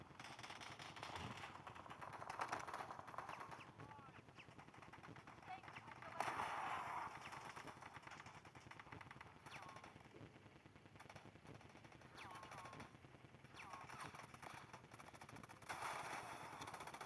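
Gunfire in the video game Delta Force comes as scattered, fairly quiet bursts of shots under game ambience, with a player speaking over it.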